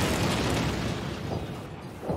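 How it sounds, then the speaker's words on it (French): A grenade explodes in Call of Duty 4 on the Shipment map, a loud, close, rumbling boom that fills the moment and slowly trails off. "La grenade, c'était pour te chauffer."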